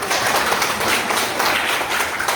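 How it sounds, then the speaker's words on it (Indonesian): Children in a classroom clap together for a classmate, a brief, steady burst of many small hands, close and fairly loud, with no talk over it. "Terima kasih Zaki, tepuk tangan dulu dong"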